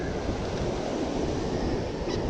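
Ocean surf with waves breaking near the shore in stormy weather, a steady rushing wash of water and wind that fills the whole clip without any talking.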